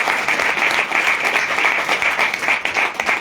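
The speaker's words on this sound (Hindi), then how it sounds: "इतना ताली।" Audience at a business plan presentation clapping in a dense, sustained round of applause, steady and fairly close throughout with no speech over it.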